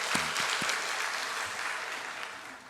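Audience in a church hall clapping together, a broad steady wash of applause that holds throughout and slowly fades toward the end, with a few faint voices underneath.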